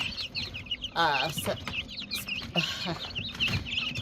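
Chickens and young chicks cluck and chirp in short repeated bursts close by, with a Silver-laced Polish rooster's louder calls breaking through now and then.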